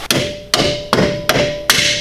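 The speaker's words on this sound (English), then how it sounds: "I'm gonna go ahead and tap the rest of it through with a plastic hammer" Five sharp, evenly spaced plastic hammer taps driving a bolt through a car's suspension, close and fairly loud, with a faint ringing hum between strikes.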